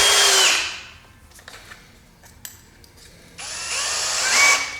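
A power drill driving a screw during a pipe organ restoration whirs in a loud burst, goes quiet with a few small knocks and clicks, then whirs again at length, revving up near the end.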